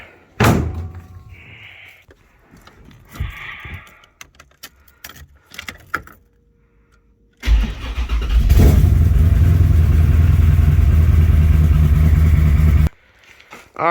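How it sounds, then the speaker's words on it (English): A C6 Corvette starts after keys jangle, a door thumps shut and there is a brief pause, then the engine catches with a loud crank and settles into a steady, rumbling idle for several seconds before cutting off abruptly. "go ahead and get this car going"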